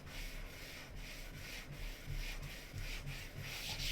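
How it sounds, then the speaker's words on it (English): Soft, steady wet sanding of a guitar body's back with 2000-grit sandpaper on a rubber block, repeated strokes in a quiet room with no talking. "I give the back of the body a light sand with 2000 grit on a rubber block"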